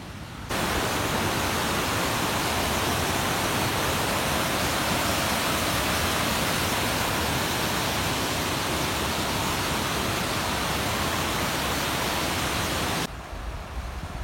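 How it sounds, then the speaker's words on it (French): Steady, loud roar of a mountain waterfall below on the Vignemale in the Pyrenees, a dense constant hiss of falling water that starts and stops abruptly. "La cascade en bas"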